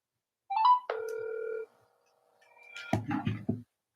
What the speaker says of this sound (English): Can anybody hear the phone ring?